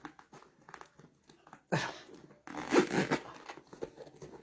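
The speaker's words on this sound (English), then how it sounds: "And zippers working." A zipper is pulled in two quick, scratchy runs, close by and fairly loud, with faint handling noises before and after.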